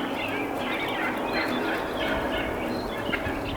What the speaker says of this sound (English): Birds are gobbling their heads off.